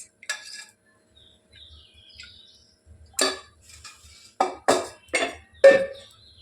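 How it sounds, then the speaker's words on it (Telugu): A kadai pan is set down on a stove as oil goes in, giving a few sharp metallic clinks and clatters spaced through the quiet, the loudest bunched near the end. "ఇక్కడ కడాయి అయితే పెట్టేశాను అండ్ ఆయిల్ ఒక టూ టేబుల్ స్పూన్స్"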